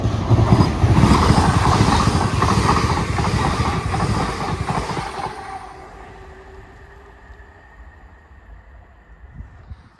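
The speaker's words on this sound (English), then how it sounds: "Next train to zoom past" A Class 802 train passes at speed through Earlestown station, a loud rushing rumble with rhythmic wheel clatter for about five seconds that then fades into a quieter, distant hum.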